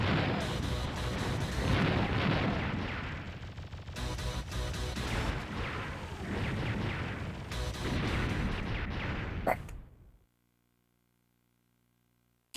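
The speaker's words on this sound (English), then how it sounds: "And a free grenade launcher?" Grenade launcher fire and explosions in the PS1 shoot-'em-up Einhänder: dense, continuous booming blasts and bursts filling about ten seconds at a loud level, then an abrupt cut to near silence with a faint hum.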